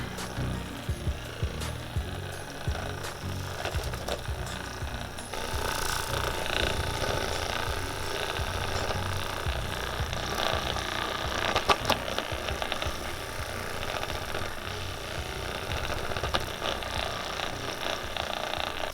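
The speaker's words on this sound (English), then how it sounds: "So I'm gonna turn it up a couple notches." A Life Pro massage gun runs on a higher setting, giving a continuous buzzing, rattling percussive hum that is fairly quiet and steady for a long stretch, with a slight rise partway through.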